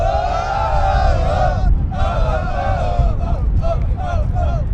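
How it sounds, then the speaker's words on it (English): York School ultimate team chanting a rhythmic pump-up cheer while warming up, a group of voices shouting in repeated bursts over steady crowd noise. "The York School warming up with a little pump-up cheer."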